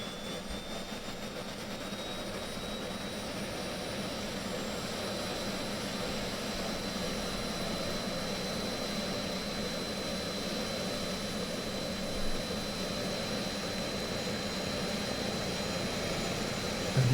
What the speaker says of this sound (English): And these engines sound amazing.